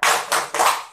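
A group claps in a rhythmic salute clap, three loud close bursts of hands striking together in quick succession during an indoor session on preventing child abuse.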